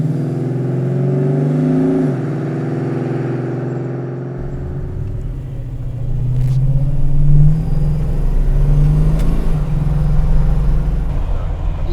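A custom 1973 Dodge Challenger is driven, heard from inside as a deep low engine rumble that drops, then swells as it pulls away and accelerates, loud and close, with people talking in the cabin.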